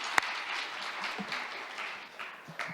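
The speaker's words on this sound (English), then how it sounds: "So why don't you give a big round of applause to these speakers and future discussants." Applause from a conference audience for the speakers at an international judicial policy research conference, a soft, dense patter of many hands held at moderate distance for a few seconds, with one sharp clap near the start.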